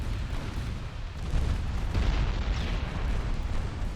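A torpedo strike explodes in the naval warfare game Ultimate Admiral Dreadnoughts, with dense, rumbling booms and blasts rolling continuously, loud and heavy throughout with a swell near the middle.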